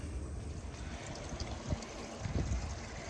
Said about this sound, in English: This has been flushing now for quite a long time